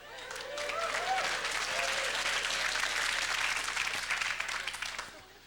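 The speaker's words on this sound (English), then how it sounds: "See, a lot of people applauded." Comedy show audience breaking into applause, a dense wash of clapping that swells quickly, holds steady for several seconds and tapers off near the end, with faint crowd murmur underneath.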